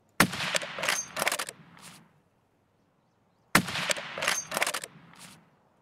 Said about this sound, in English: I think you're shooting at me, aren't you?